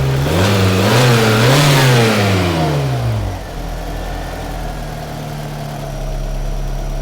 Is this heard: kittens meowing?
no